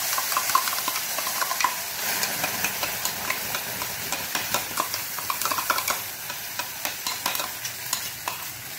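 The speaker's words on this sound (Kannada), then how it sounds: "ಸ್ವಲ್ಪ ಕಲ್ಲರ್ ಇದು ಗೋಲ್ಡನ್ ಬ್ರೌನಿಗೆ ಬರಬೇಕು, ಅಷ್ಟು ತನಕ ಚೂರು ಹುರಿಯೋಣ" Spices frying in a pan for a coastal-style sambar, a steady loud sizzle with rhythmic stirring scrapes repeating about twice a second, no talk.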